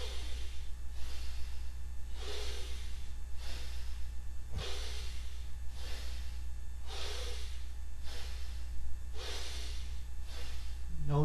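Deep, steady breathing during a cat-cow yoga exercise: slow inhales and exhales alternate in an even rhythm of about five breaths, close and clear over a low steady hum.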